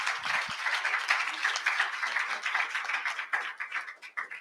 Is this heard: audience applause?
yes